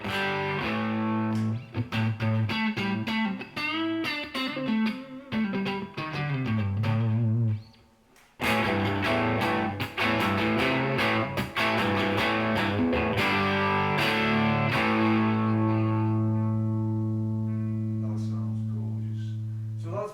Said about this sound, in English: the valves are just starting to break up